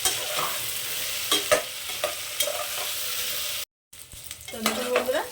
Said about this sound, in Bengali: তো এগুলো এবার আমি খুব ভালো করে ভেজে নেব একটু বেশিক্ষণ ধরে এটাকে ভেজে নেবো আমি এখন